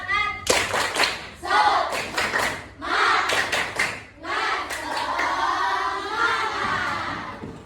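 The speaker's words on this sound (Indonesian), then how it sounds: "Tepuk semangat" A sixth-grade primary school class performs a rhythmic spirit clap, sharp bursts of unison hand claps in a patterned sequence mixed with children's chanting voices, ending in sustained group shouting.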